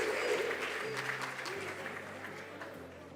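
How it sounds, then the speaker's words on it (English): A quiz-contest audience claps for junior high school contestants at a national science and maths championship semi-final, a dense, steady round of applause throughout with a low hum underneath. "A round of applause for all our contestants."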